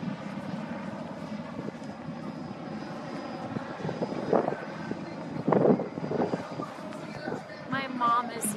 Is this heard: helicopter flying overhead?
yes